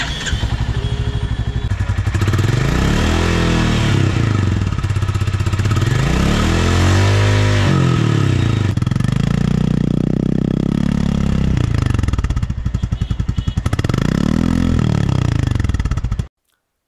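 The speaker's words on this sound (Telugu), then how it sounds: "Engine sound and exhaust note ఒకసారి వినండి." A 2025 Royal Enfield Bullet 350 single-cylinder engine thumps steadily through its exhaust at close range, with repeated rev swells rising and falling, then cuts off abruptly at the end.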